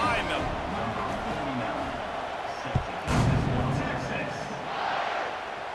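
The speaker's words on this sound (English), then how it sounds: "They're set to kick it off, and this crowd now ready to get behind them." A dense stadium crowd roars steadily at kickoff in EA Sports College Football 26, with a thud of the kick and a swelling cheer, under a play-by-play commentator.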